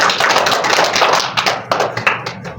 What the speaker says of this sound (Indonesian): Tepuk tangan dulu untuk teman-teman.